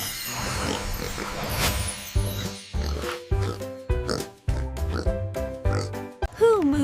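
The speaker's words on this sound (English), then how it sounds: "It's a pig." Pig oinking in a cartoonish animal sound quiz, a run of short grunting snorts in rhythmic bursts, close and loud, ending in a higher squeal.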